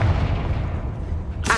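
Confringo fire spell in Hogwarts Legacy: a heavy, booming fiery blast that rumbles loudly through the moment and ends with a sharp burst at the end.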